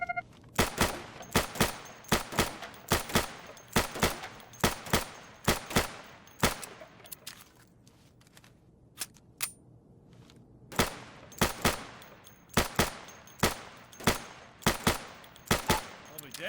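Rapid bursts of gunfire at targets in a firing booth in the game Insurgency, loud sharp shots in quick clusters, a brief lull in the middle, then more rapid shooting.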